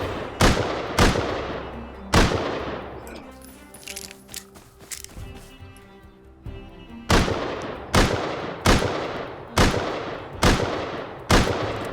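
Gunfire in the survival video game Rust, about ten sharp single shots, a spaced pair and cluster early, then a steady rhythmic run near the end, each with a short ringing decay and quieter game noises between.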